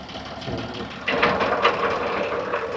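An Indofarm 3050 tractor turns over on its self-starter and settles into a steady diesel idle, close by, the engine noise rising sharply partway through and holding an even rumble.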